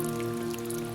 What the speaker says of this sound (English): The sound of the rain shifted here.